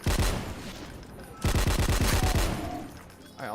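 Rapid bursts of chain gun and 20mm cannon fire in a video game, two loud volleys separated by a short pause, each a dense rattling stream of shots close up, with no talk over them.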